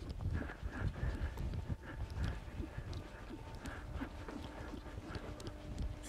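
Hooves of a ridden horse clip-clop on the ground in an uneven, steady rhythm, close and fairly quiet, with a breezy outdoor background.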